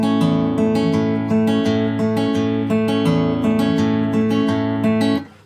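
An acoustic guitar in standard tuning plays the intro of a song: a steady strummed chord pattern with bright, ringing strings, close and loud, fading at the end, with no voices.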